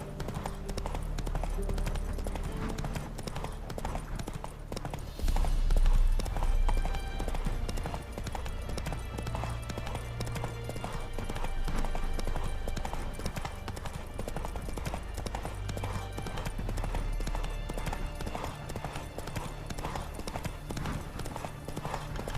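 Horse hooves clip-clop steadily while riding in The Witcher 3, a rhythmic trot that runs the whole time with game music and ambient noise layered underneath.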